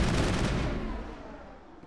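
A single heavy shotgun blast from the Mass Effect video game, loud and booming at the start, then a rumbling tail that fades over about two seconds.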